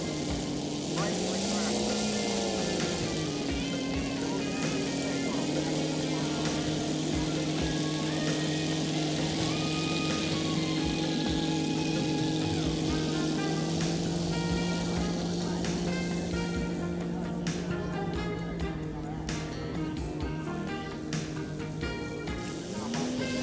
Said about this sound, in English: That great sound is from a 7-cylinder Seidel 4-stroke radial